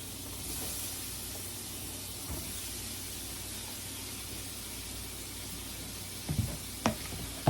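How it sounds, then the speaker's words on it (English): Onions hitting melted butter in a pan, a steady low sizzle and hiss that carries on alone, with a couple of brief clinks near the end. "I will go ahead and just add my onions in now"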